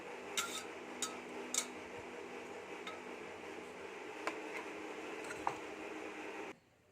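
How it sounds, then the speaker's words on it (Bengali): Skins coming off boiled potatoes on a plate, heard as faint, soft squishy handling with scattered light ticks and taps against the dish, ending abruptly. "তো দেখুন, আমি খোসাগুলোকে ভালোভাবে ছাড়িয়ে নিচ্ছি।"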